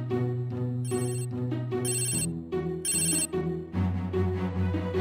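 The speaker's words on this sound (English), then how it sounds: "you can also activate a Tile to ring so you can find it by sound" A Tile tracker rings with a bright, repeating electronic melody in short bursts with high chiming tones over a layered musical backing, loud and close with no talking.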